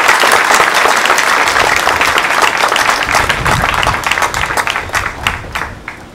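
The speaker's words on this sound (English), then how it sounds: "a round of applause for all the honorees" An induction ceremony audience applauds the honorees with loud, steady clapping that fills the room, thinning slightly toward the end into scattered claps.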